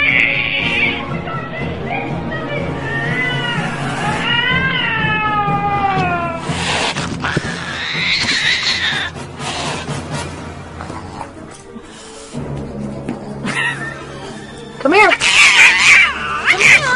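A cat fights with a person, yowling and caterwauling in rising, wavering meows, with loud scuffling bursts between the cries and human voices talking and reacting close by.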